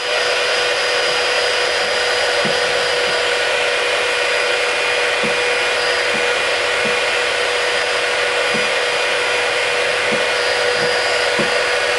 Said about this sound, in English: And people wonder why I go through a heat gun every 3 weeks.